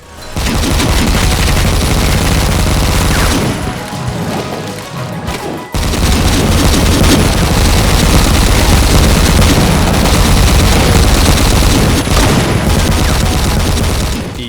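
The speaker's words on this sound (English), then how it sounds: "it's a chain gun that allows you to put it down and turn it into a turret." Continuous, loud rapid automatic fire from a chain gun in the Doom-like shooter Supplice, booming bursts with a short break near the middle before the barrage resumes.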